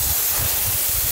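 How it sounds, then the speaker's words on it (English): A steady, close hiss of GYEON WetCoat sealant sprayed onto a wet Toyota Tacoma, continuous and even throughout with no pauses. "You just spray it on and rinse it off immediately with a lot of water."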